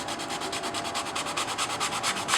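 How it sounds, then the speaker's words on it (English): Hand sanding with sandpaper over a scratch in a wood floorboard, a steady rapid back-and-forth rubbing rasp, close and continuous with no talk. "take a little bit of sandpaper and just carefully try and take out any remaining spots that we have in that scratch"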